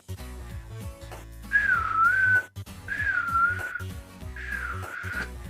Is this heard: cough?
no